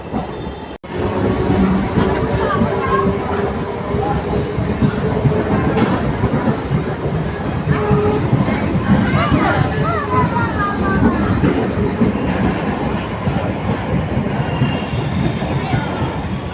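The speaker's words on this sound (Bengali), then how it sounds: "কত লোক নিয়ে ট্রেনটা এখন ব্যান্ডেলের দিকে গেল" A passenger train runs steadily on rails, a continuous loud rumble with wheel clatter and squealing, heard from aboard or close by for the whole stretch.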